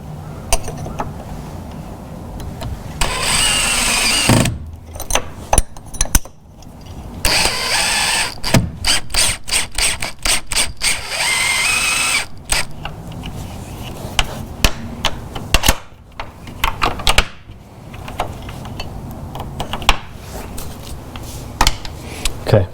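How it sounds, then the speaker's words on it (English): Power drill driving screws into a security door reinforcement plate, repeated short bursts of whirring and clattering with pauses and knocks between them, close and loud. "I'll drill these 3 and put the other 3 screws in"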